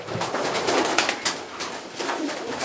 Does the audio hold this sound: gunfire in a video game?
no